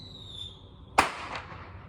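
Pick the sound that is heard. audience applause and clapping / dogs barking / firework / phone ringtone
firework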